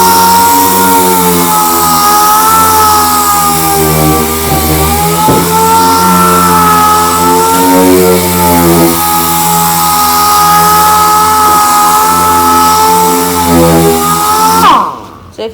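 3M orbit sander running continuously and loud, a steady tonal motor whine with slight pitch wavering, cutting off abruptly at the end.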